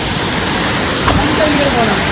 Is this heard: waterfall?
yes